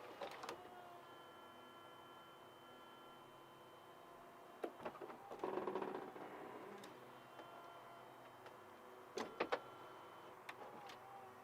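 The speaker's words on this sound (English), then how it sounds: "the car is a hardtop convertible, and I believe if we can get the roof to go" The retractable hardtop roof of a 2012 BMW Z4 sDrive35is roadster moving, a quiet steady electric motor whir with soft mechanical clicks and clunks along the way, heard close in a calm setting.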